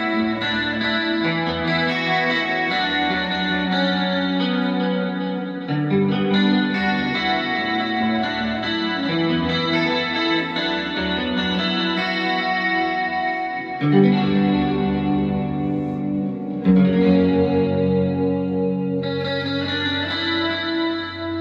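A Johnny Marr electric guitar with both pickups combined as one humbucker plays a continuous run of full, thick strummed chords through chorus and effects, loud, close and unaccompanied.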